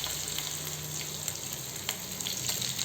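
Finely chopped onions sizzle and fry in hot oil for a dry fish curry, a steady close crackling hiss with occasional louder pops.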